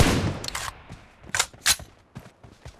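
Gunfire in the video game BGMI, a loud opening blast followed by several sharp, uneven shots and short bursts, close and punchy with brief gaps between them, no talking.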